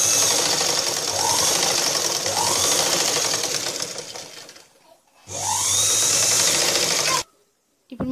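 Sewing machine stitching a blouse runs in two loud, steady bursts of rapid mechanical whirring, with a pause in between and a brief stop near the end; no talking.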